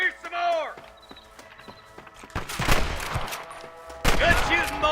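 Gunfire in Red Dead Redemption on Xbox Series, dense bursts of shots and rattling volleys in two loud waves, with horse hooves and shouting voices mixed in.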